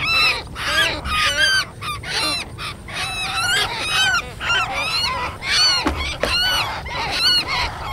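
Loud, repeated whistling bird calls played from a speaker in quick succession, a dense electronic-sounding chorus of rising chirps running continuously without pause, in an abandoned rice field.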